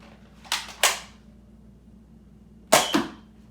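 Nerf foam darts smack into a numbered target in a quiet room, landing as two quick sharp snaps followed by another after a pause.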